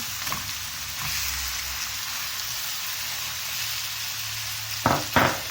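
Beef mince frying in a pan, a steady broadband sizzle running throughout, with a couple of sharper stirring scrapes near the end; no one talks.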